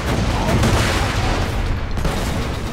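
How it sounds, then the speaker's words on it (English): A grenade detonates in the video game Borderlands, a loud burst of booming, crackling gunfire-like noise filling the short moment with little let-up. "Grenade!"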